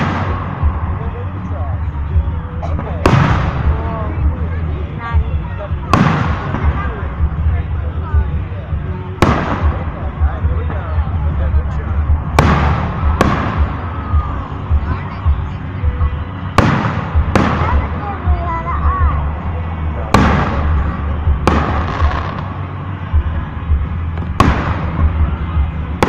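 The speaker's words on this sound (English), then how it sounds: "these are the best fireworks I have ever seen so far" Fireworks bursting overhead in a large display, with about a dozen sharp booming bursts spaced a few seconds apart over a steady crowd murmur and nearby voices talking.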